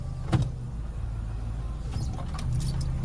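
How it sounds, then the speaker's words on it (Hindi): A car's electric windows whir shut one after another inside the cabin, quiet motor hums over a low road and engine rumble, with a faint click near the start. "अब शीशे चढ़ा लो क्योंकि एसी ऑन है।"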